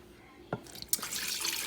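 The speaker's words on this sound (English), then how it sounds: "So I'm just going to pour this all over the beef." A soy sauce marinade with water, brown sugar, ground ginger and minced garlic pours over sliced beef, a brief clunk followed by a steady close splashing trickle of liquid.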